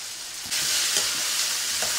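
Chopped tomato, beans, carrot and fresh peas hit a hot pan, breaking into a loud, bright sizzle that continues steadily while the vegetables are stirred, with a few soft scraping strokes.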